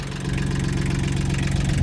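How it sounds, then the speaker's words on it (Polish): An ISEKI TL2300 compact tractor's diesel engine idles steadily close by, a continuous low rumbling throb with even knocking pulses and no voices throughout. "Tak wygląda traktor po skończeniu. Tak ładnie pracuje."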